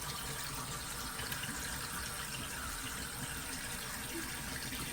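Water running steadily from a tap while a mud mask is rinsed off, an even rushing stream throughout with no clear voice.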